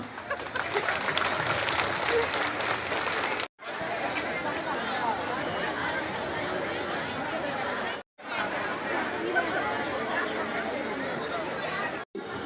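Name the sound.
audience clapping at a public meeting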